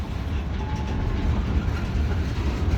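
A CSX freight train rolls slowly through the rail yard at Brunswick while stopping, giving a steady low rumble with faint wheel clatter, close and continuous, with no voices.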